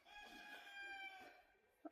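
A rooster crows once in a drawn-out, tonal call, faint and somewhat distant on a homestead, followed by a brief sharp cluck at the end.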